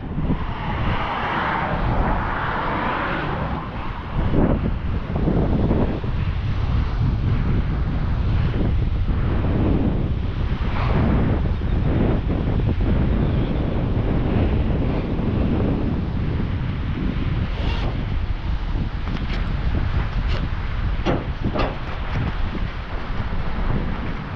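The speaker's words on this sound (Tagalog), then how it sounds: "Malakas yung hangin." Strong wind roars and buffets the microphone continuously at a seaside rest area on a Michigan beach, with a rushing, surf-like background and no voices.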